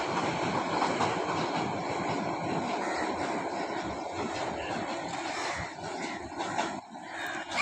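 A long train rumbles past on an early winter morning near a rooftop garden, a steady broadband roar with clattering wagon noise holding loud and continuous throughout.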